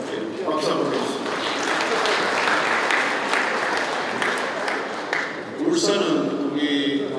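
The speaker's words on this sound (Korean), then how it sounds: "박수 한번 해주세요." Audience applause for visiting Ulsan association guests at a Gyeongbuk provincial APEC summit results briefing, a broad steady roar of clapping filling the room for several seconds, swelling again near the end.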